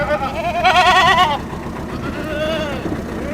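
Goats bleat loudly at a busy wholesale goat market in Kerala, one wavering cry close by, followed by fainter bleats over a constant crowd murmur and vehicle noise.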